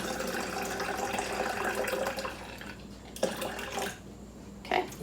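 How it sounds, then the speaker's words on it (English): Tap water running into a measuring cup, a steady rushing pour that thins out and stops partway through, followed by a couple of light clinks. "Gonna go ahead and fill it up to that line with water."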